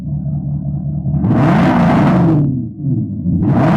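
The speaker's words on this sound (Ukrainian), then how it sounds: "ми встановили німецький електронний вихлоп Maxhaus" A BMW X7 with a Maxhaust electronic active exhaust rumbles low and then roars in deep, synthesized-sounding revs, swelling twice with a brief dip between, loud and close.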